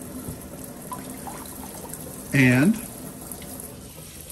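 Tap water sprayed over a potted orchid pulled from its net container during a LECA flush, a brief splashing burst rising above the quiet room, with a word spoken just before it.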